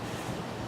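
Steady wind blowing across an open seashore at Westport, Washington, a continuous broadband rush with low buffeting, like wind striking the microphone, and no voices.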